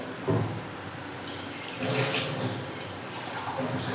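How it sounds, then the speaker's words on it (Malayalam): Water pours steadily into a small mixer-grinder jar with a broad hiss and splash, faint and close, swelling slightly midway with soft clinks. "ഞാനപ്പോൾ കുറച്ച് വെള്ളം ഒഴിക്കുന്നുണ്ട്"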